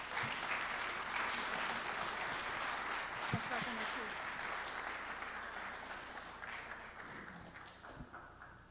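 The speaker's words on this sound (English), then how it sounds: "let's give our panelists one final round of applause" Conference audience applauding panelists: a broad, sustained round of clapping from a large crowd in a hall, slowly fading over several seconds, with a couple of low thumps and faint voices beneath.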